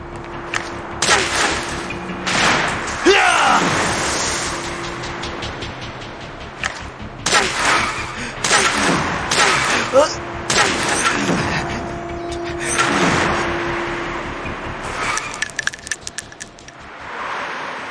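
Gunshots ring out in the mobile game Dragon Raja, a series of sharp, loud bursts spread irregularly across the scene with rumbling impacts and effects between them.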